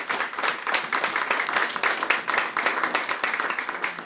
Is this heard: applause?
yes